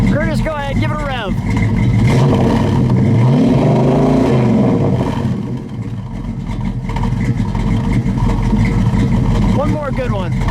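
A 1970 Dodge Challenger R/T's 426 Hemi V8 is revved hard in a parking lot, the engine swelling into a loud, sustained roar and settling back, with brief voices near the start and end.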